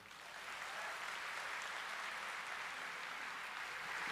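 An audience applauding at a speech, a dense, steady wash of clapping from many hands that swells in and holds, heard from a distance without any talking.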